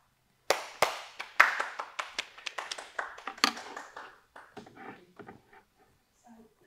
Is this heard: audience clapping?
yes